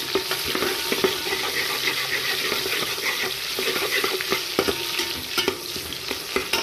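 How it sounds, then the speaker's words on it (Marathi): Onion frying in a pan for mix veg matar pulao, a steady crackling sizzle broken by frequent scraping stir strokes, close and moderately loud with no talking. "कांदा व्यवस्थित फ्राय झालाच पाहिजे."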